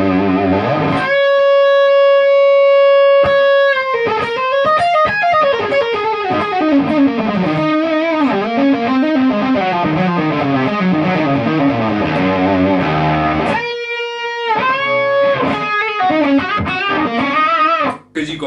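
Distorted, fuzzy electric guitar through a Mesa Dual Rectifier amp with mids and treble cut plays a sustained chord, then a busy riff with many bent notes, ending on another held chord.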